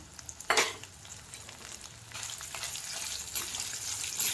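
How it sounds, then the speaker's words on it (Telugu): Urad dal, chana dal and dried red chilies frying in a pan for a chutney, a soft continuous sizzle with occasional stirring scrapes and a few sharper pops. "అలాగే ఎండుమిర్చి వేసుకొని వేయించుకోవాలి."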